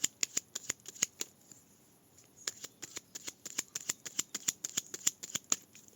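A deck of oracle cards being cut and shuffled, giving quick repeated papery snaps and riffles in two bursts separated by a short pause, close and fairly quiet, with no talking.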